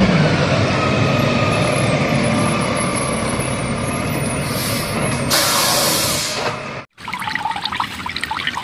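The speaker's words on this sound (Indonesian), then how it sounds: "Wow, ada truk sampah." A toy garbage truck gives off a loud, close electronic engine rumble with a hissing, air-brake-like burst near the end, then stops briefly before a quieter clattering tail.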